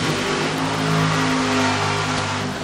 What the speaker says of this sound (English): 2 more funny cars heat their tires.